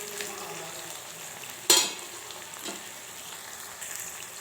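Tomato pieces fry in hot oil for a lentil dish, a quiet steady sizzle broken by one sharp clatter of a stirring spoon and a fainter scrape later.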